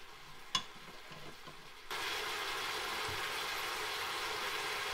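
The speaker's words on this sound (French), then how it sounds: "Et on fait dorer quelques minutes, le temps que nos oignons deviennent translucides." Onions browning with saffron and turmeric sizzle softly in a Cookeo pot, with a faint clatter early on, then a steady hiss of frying that continues to the end.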